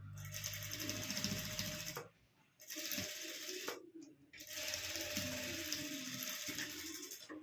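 A sewing machine stitches a puff net sleeve in close, loud bursts of rapid mechanical whirring and clatter, pausing briefly twice before running on.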